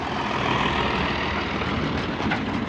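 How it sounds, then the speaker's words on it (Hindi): A tractor pulling a trolley rolls in on a farm where tomatoes are harvested, its steady diesel engine rumble filling the clip, fairly near and continuous, with no talk. "ये तो ट्रैक्टर ट्राली आ गई है"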